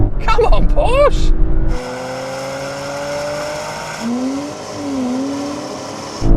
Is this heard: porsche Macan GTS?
yes